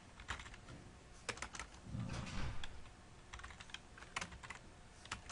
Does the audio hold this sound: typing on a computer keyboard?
yes